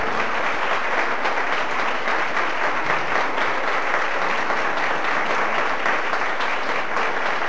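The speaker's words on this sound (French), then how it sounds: "On les applaudit bien fort." At a 1990s school end-of-year show, a crowd breaks into loud, continuous applause, a dense even roar of clapping that holds unbroken at full strength throughout.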